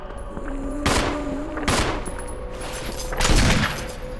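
Barry fires his gun in the Resident Evil Remake video game, three loud blasts spaced about a second apart over a low, droning ambient backdrop.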